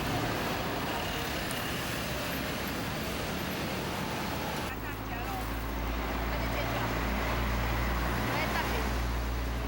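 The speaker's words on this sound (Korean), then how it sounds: "공단 거리를 가득 메운 스쿠터 부대는 까오슝만의 아침 풍경을 만들어낸다" Dense, continuous hum of many scooters passing along a busy morning street in Kaohsiung, Taiwan, with a narrator talking over the steady traffic roar.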